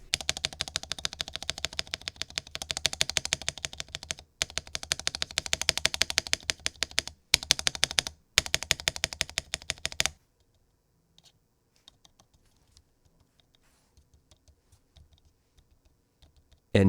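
Keyboard with lubed, Holee-modded stabilizers being typed on: rapid, dense runs of muted clacks for about ten seconds with a few short pauses, then sparse scattered key taps fading to near silence, close-miked and with no talk.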